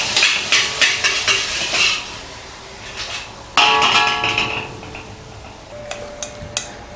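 Spinach stir-fried in a pan, with bursts of sizzling and quick clicking, scraping strokes of a utensil against the metal, loud and close with brief pauses between tosses.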